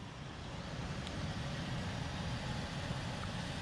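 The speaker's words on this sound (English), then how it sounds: "When I get on the gas, this thing's loud." The engine of a busted 1993 Mercury Cougar runs steadily, a broad, continuous low rumble with road-like noise and no distinct revs or voices.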